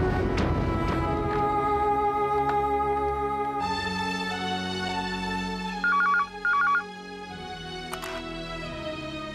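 A telephone rings out during a call, two short electronic ring bursts over a sustained tonal background.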